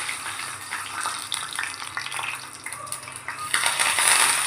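Mustard seeds, red chillies and dal are tempered in hot oil for kuzhi paniyaram, giving close, bright crackling and sizzling with scattered pops that grows louder and denser toward the end.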